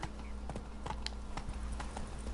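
Roach the horse in The Witcher 3 trots with a steady clip-clop of hooves over a low continuous hum, moderately quiet and without talking.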